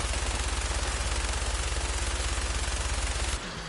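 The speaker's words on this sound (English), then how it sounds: "I'm like shooting him." Rapid automatic gunfire from a weapon in Fallout 4, a loud, steady stream of closely spaced shots that runs for over three seconds and then cuts off abruptly.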